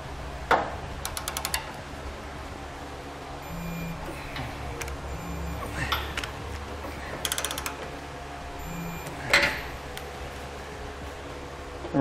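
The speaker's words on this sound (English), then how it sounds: "we'll torque all of our hardware down to the specifications and the instructions" A torque wrench ratchets in quick clicking runs while tightening trailer hitch mounting hardware for a Draw-Tite Ultra Frame receiver, close metallic clicks in short bursts with pauses, over faint background noise.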